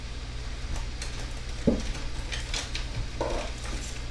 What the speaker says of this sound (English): I'm going to take and press all that meat right down into the pan.